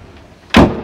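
The cabin door of a Monterey 295SS boat swings shut with a single loud, solid thud after a quiet moment, close by and short.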